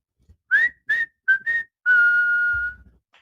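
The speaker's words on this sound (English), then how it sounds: "I'll give you a whistle because you're a Yankee." A person whistles a short tune alone: four quick chirping notes followed by one long sustained tone, clear and close, during a baseball game between the New York Yankees and the Toronto Blue Jays.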